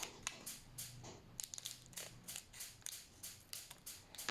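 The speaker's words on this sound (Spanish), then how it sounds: "Con ayuda de tijeras. Lo voy a abrir." Scissors snip open a powder packet for a jelly egg candy, giving a quiet series of crisp, repeated cuts and crinkles at an uneven rhythm, close by and faint.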